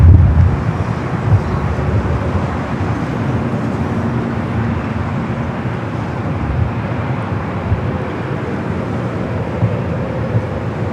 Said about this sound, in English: JetBlue heading to JFK, flight 524. It's an A321neo up next for takeoff.